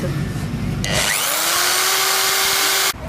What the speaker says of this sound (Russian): Я сейчас просверлил в этой дощечке отверстие не за счет просто сети, а за счет этой нашей солнечной батареи ветряка